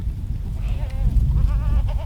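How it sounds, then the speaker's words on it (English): Kiko goats gather at a hay feeder, with a few close bleats rising over a low rumble of handling and movement. "All the goats are coming in to hopefully eat on it, see how they're going to do on it."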